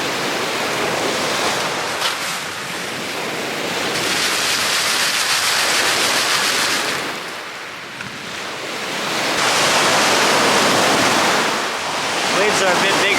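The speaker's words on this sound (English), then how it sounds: "Waves are a bit bigger today." Waves break on the Lake Superior shore in loud, continuous surges of surf that swell and ease in two or three big rolls, with wind buffeting the microphone.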